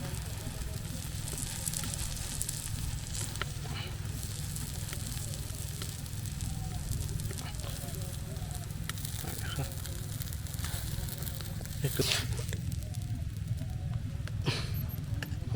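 Pav buns crackle and sizzle on a hot street-style pav bhaji griddle, a dense, continuous frying hiss with scattered pops and scrapes throughout.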